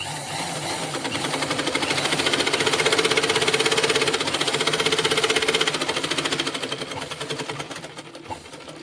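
A previously stiff sewing machine, now loosened, runs steadily up close, a fast rhythmic mechanical rattle that swells in the middle and eases off near the end.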